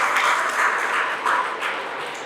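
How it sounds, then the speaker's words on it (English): Students clap in a lecture hall during a medical lecture, a steady, dense round of applause filling the room at moderate loudness, with no voices over it. "Please clap for him."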